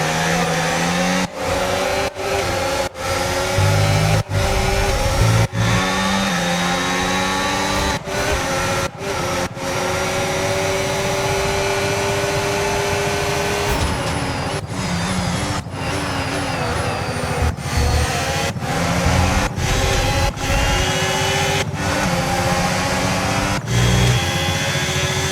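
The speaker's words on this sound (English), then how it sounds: "Let's quickly take a listen onto all the team's engine audio." F1 team car engines in the F1 25 racing game, a loud continuous high-revving whine with rising and falling pitch sweeps, punctuated by sharp gear-change cuts, heard alone.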